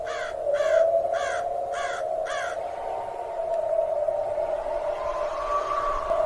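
A crow caws five times in a quick, evenly spaced series, loud and near, followed by a steady tonal hum that continues to the end with no talking.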